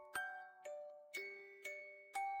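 Soft bell chimes ring out one by one in a slow, even sequence of five struck tones, each bright note sustaining briefly before the next, gentle and clear against silence.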